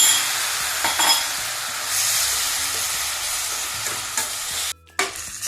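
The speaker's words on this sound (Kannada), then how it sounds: "ಈಗ ಬೇಯಿಸಿಟ್ಟಿರೋ ಕುಂಬಳಕಾಯಿನ ಹಾಕ್ತಾ ಇದ್ದೀನಿ." Boiled pumpkin with turmeric frying and being stirred in a pan gives a loud, steady sizzling hiss, broken by scraping stirs and a brief pause near the end.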